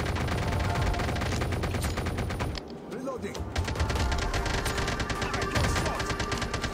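Rapid, dense automatic gunfire from a custom M4 in the Call of Duty Mobile battle royale fills the mix almost nonstop, pausing briefly midway before the bursts resume at full loudness.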